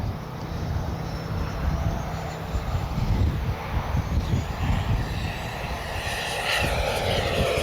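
Arrows RC Marlin 64 EDF model jet flying overhead, a steady whooshing ducted-fan roar that swells and fades slightly as it climbs and maneuvers, continuous throughout without talk.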